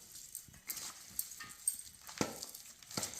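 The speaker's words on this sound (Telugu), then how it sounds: "బాగా కలుపుకుందాం." Spiced zucchini mixture with chilli powder and ginger paste is stirred in a pan, giving quiet, irregular scrapes and soft scratchy strokes over a faint sizzle, close up and without talk.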